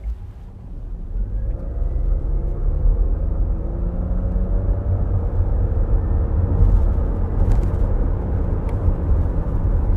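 A 2023 Nissan X-Trail accelerating hard in sport mode: a steady low engine rumble with rising tones builds over ten seconds, heard from inside the cabin, with a few faint clicks near the end.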